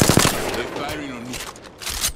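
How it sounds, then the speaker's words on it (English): Enemy gunfire in a video game crackles in quick bursts at the start and end, with a voice speaking during the quieter middle stretch. "They're firing on me."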